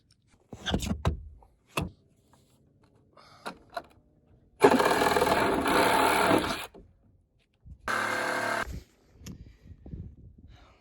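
A power tool shaves down a scrap wood part for a loft floor, loud buzzing bursts of about two seconds and one second, separated by quieter handling knocks and brief clatter.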